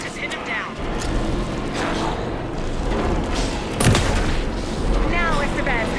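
Gunfire in the game Alan Wake 2 booms heavily amid a dense, rumbling mix of combat effects, with a sharp burst near the middle, while characters shout over it.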